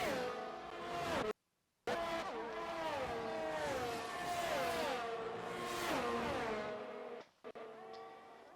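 McLaren race cars screaming through a Great Britain circuit in Project Gotham Racing, a loud high-revving engine wail with repeated gear-shift pitch drops and one brief cutout of silence near the start.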